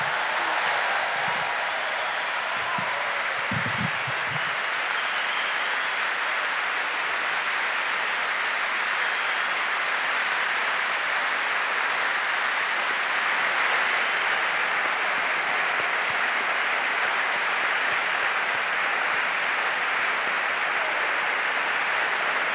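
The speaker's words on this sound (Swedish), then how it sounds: "Nu är det hög tid att applådera för alla diplomaterna." Sustained applause from a crowd at a university bachelor's diploma ceremony, a steady wash of clapping that fills the hall evenly for the whole stretch with no talk over it.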